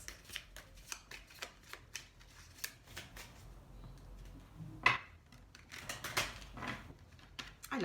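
Tarot cards are handled and dealt into a spread, soft, close flicks and slaps at an uneven pace, quiet overall with one sharper snap midway.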